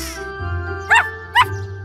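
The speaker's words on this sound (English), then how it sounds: "The puppy is calling his friends over for a competition." A cartoon puppy gives two short, bright barks about half a second apart over a steady music bed with a soft background drone.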